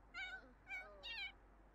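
A cat in The Sims 4 meows three times in quick succession, clear and fairly soft, over a quiet game background with no talk.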